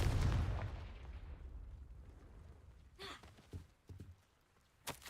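The Confringo fire spell is cast in Hogwarts Legacy: a booming fiery blast opens loud and decays over a couple of seconds, followed by scattered softer thuds and a final sharp hit.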